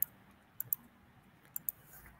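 A computer mouse clicks several times in quick pairs, producing sharp, close, distinct ticks separated by short quiet pauses.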